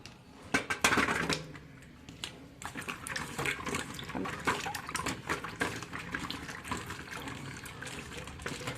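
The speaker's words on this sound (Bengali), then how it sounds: "এই আমলকিগুলোকে এবার আমি ধুয়ে নেবো" Amla gooseberries are washed by hand in a bowl of water, giving close splashing, sloshing and trickling with a few knocks against the container.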